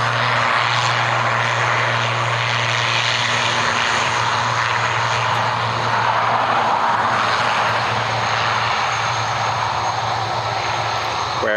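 Aer Lingus regional turboprop airliner at Dublin Airport, a loud continuous propeller-engine roar with a low steady drone, heard alone without talk for the whole stretch.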